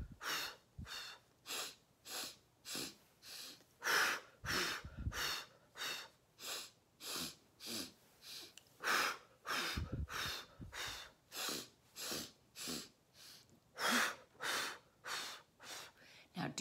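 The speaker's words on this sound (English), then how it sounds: "you're gonna breathe through your nose very deeply and then exhale. It's a staccato." Staccato deep breathing, quick forceful sniffs in through the nose and sharp exhales repeated in a steady rhythm of around thirty close, loud breaths with no talking.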